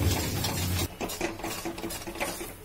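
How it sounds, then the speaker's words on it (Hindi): Khoya barfi mixture stirred in a pan with a soft, continuous scraping and rubbing, a low hum at the start, then irregular light scrapes close by. "अब हम इसे लगातार चलाएंगे ताकि एक जैसा हो जाए,"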